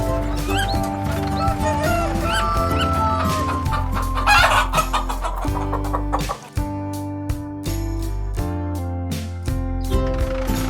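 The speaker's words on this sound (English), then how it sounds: "Rooster, cock-a-doodle-doo." A cartoon rooster crows cock-a-doodle-doo in a children's animal-sounds song, mixed into continuous bouncy background music.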